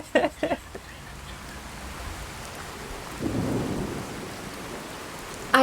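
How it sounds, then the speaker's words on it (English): Thunder rolls low and long beneath steady rain, swelling midway, with a few sharp nearby knocks at the start and end. "Excuse the thunder."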